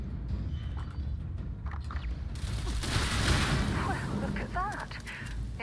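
Gunfire in the sci-fi game Starfield with an assault weapon using 50-caliber ammo: after a quieter start, loud bursts of rapid shots and impacts erupt midway, with a voice faintly underneath.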